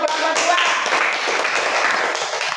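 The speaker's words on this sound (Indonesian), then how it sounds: "Tepuk tangan untuk kelompok 2." Classroom applause for a student group, a dense, steady patter of many hands clapping at once, filling the space evenly with scattered taps and a light background voice.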